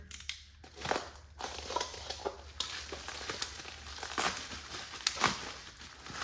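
Bubble wrap is crumpled and pulled away from the parts of a newly unboxed Vevor tire changer, giving close, continuous crackling and crinkling with sharper pops and snaps scattered throughout.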